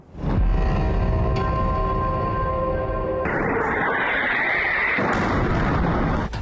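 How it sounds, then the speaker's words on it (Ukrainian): Missile strike explosions: a deep rumbling blast rolls out and lingers, followed by another heavy boom with a broad roaring wash of noise, no voices present. "вибух, потім ще один."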